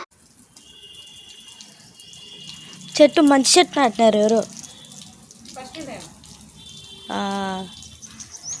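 Water pours steadily onto aloe vera plants in a home garden, a constant gentle splashing flow, while a person speaks over it in short bursts.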